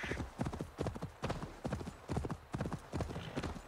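Horse hooves gallop in a steady, rapid clip-clop rhythm during Assassin's Creed Valhalla gameplay, loud and close throughout.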